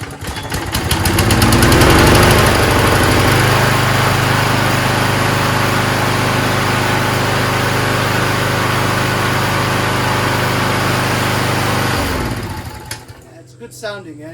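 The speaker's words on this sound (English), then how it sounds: "Good sounding engine, man." A small Toro Recycler lawn mower engine with a rotted deck starts, revs up and runs loud and steady for about ten seconds before sputtering down and stopping.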